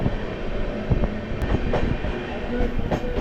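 The Kovai Express passenger train runs on its rails, heard from inside as a steady loud rumble with rhythmic clicks and clacks of the wheels over the joints.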